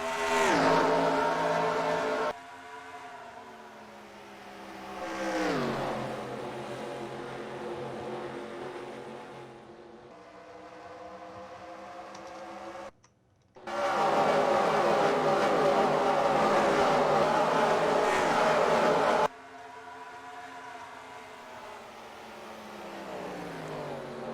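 NASCAR race cars battle at Homestead, their engines howling past in several loud, close passes, each pitch sliding downward, with a brief near-silent gap between bursts.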